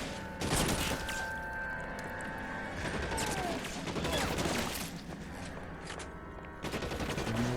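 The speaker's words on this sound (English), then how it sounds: "Why are you shooting me?" Gunfire crackles in L.A. Noire, bursts of sharp shots and automatic fire scattered across the clip amid other game sounds, with voices speaking underneath.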